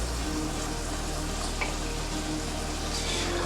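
Chicken fillet added to a pan of softened onion fries with a steady, dense sizzle that runs throughout, with no talking.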